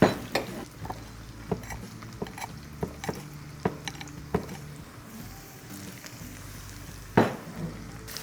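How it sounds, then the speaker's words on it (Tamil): Crushed garlic frying in sesame oil, with a faint sizzle under repeated sharp clinks and scrapes of a utensil against the pan, a louder knock near the end, and no talk. "நசுக்கின இந்த பூண்டை இந்த நல்லெண்ணெயில் சும்மா செக்கச்சவையான்னு வருங்க"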